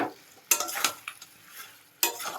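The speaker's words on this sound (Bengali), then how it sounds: "হ্যাঁ, এবার কষা চালু করে দে।" Chicken kosha is stir-fried in a pan, with close, brisk scraping strokes of a spoon against the pan over a soft sizzle, a few sharp stirs standing out.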